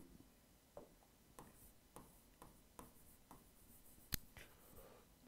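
Chalk or pen writing out a word on a board during a classroom lesson, a series of soft scratchy strokes with brief pauses and one sharp tap, faint and close with no talking.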